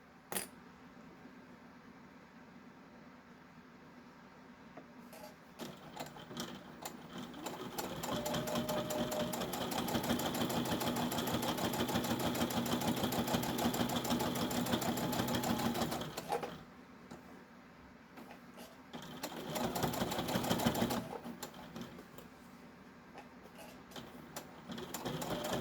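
A sewing machine stitches a fabric bowl koozie with folded layers, its fast mechanical whirr rising for a long run of stitching, pausing, then starting again for a shorter burst, close up and alone.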